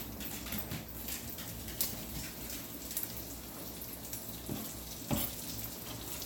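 Onions sizzle steadily in a hot pan, the first step of pasta fazool, with a constant frying hiss broken by a few sharp pops and a clatter around the middle and end.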